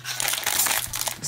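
A plastic packet of slime ingredients from a Poopsie Slime Fantasy Friends kit crinkles and crumples loudly and continuously for about a second, up close, with no talking.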